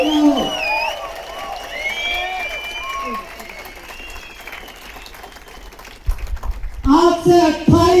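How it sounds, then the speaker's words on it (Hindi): Clapping and whistling from an audience at a business seminar, heard briefly near the end after a long stretch of someone talking over a hall PA. "सीटी बजा के, ताली बजा के"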